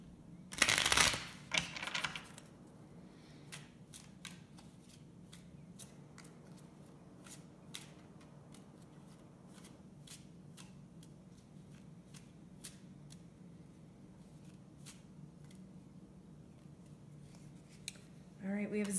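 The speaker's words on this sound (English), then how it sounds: "we're going to pull a card from the crystal deck" A crystal oracle card deck is shuffled, opening with a brief loud riffle and then soft scattered card flicks and taps close by.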